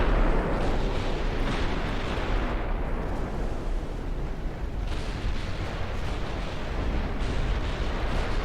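A torpedo detonates against a ship in the naval battle game Ultimate Admiral Dreadnoughts, a heavy rumbling blast that rolls on for several seconds with layered booms and crackles, loud and close throughout.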